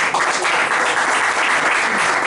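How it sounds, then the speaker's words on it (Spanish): Applause from a church congregation during a worship service, a dense steady wash of many hands clapping that carries evenly from start to finish with no talk over it. "Les invito a que den una ofrenda de palmas a nuestro buen Dios"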